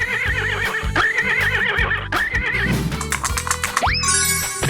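Repeated whinnies from a horse in a 3D animal video game ride on top of upbeat, pulsing game music, followed by clip-clop-like taps and a swooping boing with chiming tones at the end.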